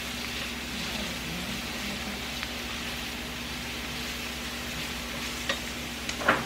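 Garlic frying in a pan for butter garlic crab and shrimp gives a steady, soft sizzle throughout, with a few faint clinks of stirring near the end and no talk.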